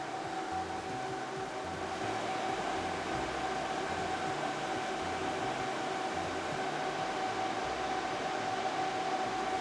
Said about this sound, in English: These fans are noisy and super fast.